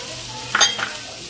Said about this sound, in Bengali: মশলা দিয়ে কষিয়ে নিয়ে এবার আমি টমেটোটাকে দিয়ে নেব